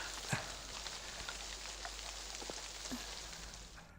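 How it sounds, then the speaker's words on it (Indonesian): Steady rain falls outdoors as a continuous soft hiss with scattered drop taps, moderately faint and unbroken, with no voices over it. "Kemarilah, masih hujan."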